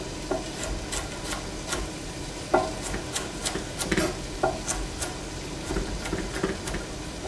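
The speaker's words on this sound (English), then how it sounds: "And let's just start dicing" A knife dices vegetables on a cutting board in quick, irregular taps, some sharper than others, over a soft background hiss.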